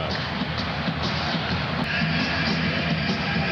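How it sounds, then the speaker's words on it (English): An arena crowd on its feet cheering at an NBA basketball game between the Chicago Bulls and the Detroit Pistons: a dense, steady roar that holds at a constant level throughout. "Crowd on its feet."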